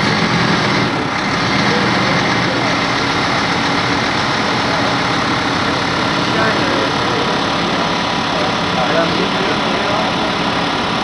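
A brand-new Scania S500 truck engine runs steadily at idle in Staphorst, a loud continuous low rumble throughout, with outdoor crowd noise mixed in and no clear changes in engine speed.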